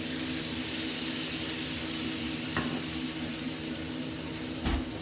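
Liver and bacon sizzling in plenty of butter with red wine vinegar in a pan, a constant close hiss and crackle with a couple of brief stirring clatters and no speech.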